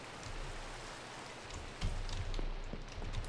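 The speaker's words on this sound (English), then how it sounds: "It's raining." Rain falls steadily in a video game, a soft, even hiss of drops with a few slightly louder patters, fairly quiet and with no voices.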